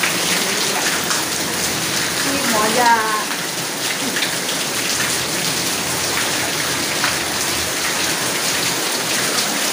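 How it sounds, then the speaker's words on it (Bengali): Heavy rain pours down steadily in a loud, dense hiss that drums on surfaces throughout, while a person briefly speaks close by. "এই যে ঝমঝম করে বৃষ্টি পড়ছে"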